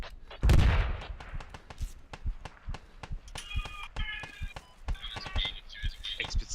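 Rapid gunfire in the video game Squad crackles throughout, with a heavy close blast early on and a steady stream of nearer and more distant shots; radio-like chatter and voices run underneath.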